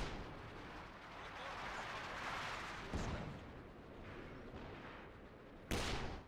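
Infantry support guns fire in a Company of Heroes–style strategy game, heavy booming shots over a dense, continuous rumble of battle, with sharp reports near the start, middle and end.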